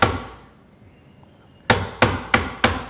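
A hammer drives a Marples splitproof chisel into wood, one strike followed by four evenly spaced sharp blows, close and crisp, each with a short ringing decay.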